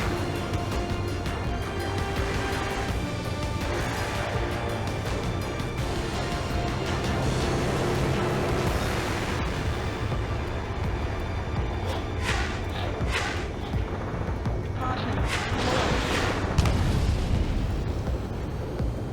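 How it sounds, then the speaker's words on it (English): Airstrike explosions in the Ace Combat 7 flight game, a continuous roar of booms and blasts that rumbles without pause, with sharper bursts standing out near the end. "Enemy's airstrikes have fallen"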